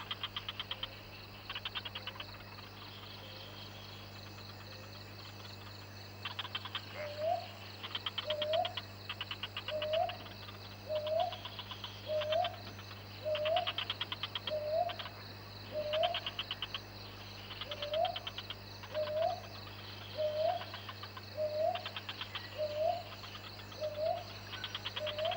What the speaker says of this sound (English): Dawn and the nightly chanting of frogs gives way to a different chorus.